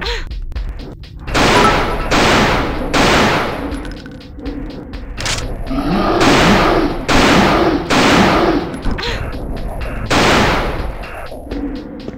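Loud, evenly spaced gunshots from the survival-horror video game Alone in the Dark: The New Nightmare. Roughly eight heavy blasts with ringing metallic tails fire one after another in a steady rhythm, with no voices over them.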